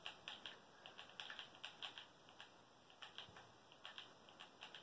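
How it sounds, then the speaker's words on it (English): Rapid mouse or controller button clicks while building a roller coaster in Minecraft, faint and irregular, coming in small clusters of sharp taps with no talking. "It's me using my buttons."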